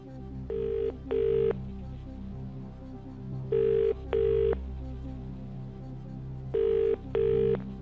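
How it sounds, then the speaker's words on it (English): On a quiz show set, a British-style telephone rings with three double rings, each pair of even electronic trills separated by pauses, loud and clear over a low musical bed. "I'll phone Terry"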